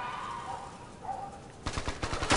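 Rapid bursts of gunfire break out in the Ghost Recon: Future Soldier video game, a quick crackling volley of shots that grows louder near the end after a quieter stretch of game ambience.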